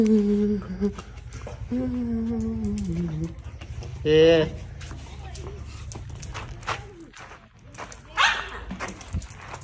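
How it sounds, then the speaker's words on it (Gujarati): Farm dogs at play let out a few short barks amid someone talking, with birds calling faintly in an outdoor rural yard. "મારે તો અહીંયા છે ને અમારા કૂતરા રમે છે"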